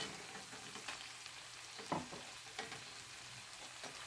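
Minced garlic being stirred into browning ground-beef sloppy joe meat, a soft steady sizzle with a few spoon scrapes against the pan, fairly quiet and close, no talking.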